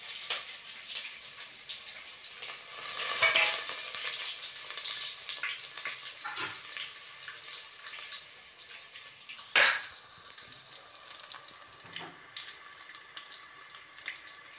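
Cumin and mustard seeds crackling and frying in hot sunflower oil for an Indian chicken gravy curry, a steady bright sizzle with a louder burst early and a sharp pop midway, no speech.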